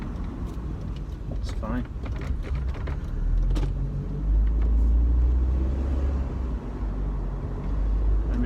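A Mercedes SLK R170 drives on a road and brakes gently for a left-hand turn, giving a steady low engine and tyre rumble inside the cabin that swells slightly as someone speaks briefly.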